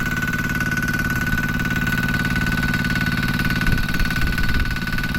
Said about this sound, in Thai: เครื่องยนต์ดีเซลนะครับ